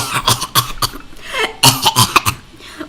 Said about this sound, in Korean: 기침을 미친 듯이 하는 거야